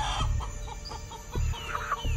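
Chicken clucking in short repeated bursts, fairly close and clear, with a low background rumble and no speech.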